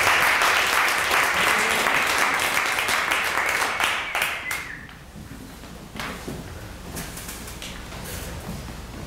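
Audience applause at a Del Mar Toastmasters club meeting welcoming a speaker, dense steady clapping that fills the room for about five seconds before thinning into scattered claps and quiet room noise.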